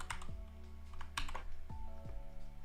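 Typing on a computer keyboard, a few quick key clicks in small clusters, close and fairly quiet over a steady low electrical hum, with no voices.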